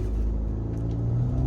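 Land Rover Discovery Sport and Audi Q3 Quattro launch side by side in a drag race, a loud steady low engine rumble building without pause and heard from inside the car.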